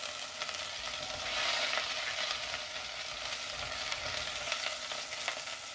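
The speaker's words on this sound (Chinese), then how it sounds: "锅里倒入少量的油烧热，" Scallion and ginger stir-frying in a little hot oil for meatball soup, a continuous close sizzle with spatula scrapes and tossing, loud and steady with no voices.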